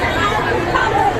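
A dense crowd at a Shiva temple during a Jitiya fast ceremony keeps up an unbroken murmur of overlapping voices, a close, steady babble with no single speaker standing out.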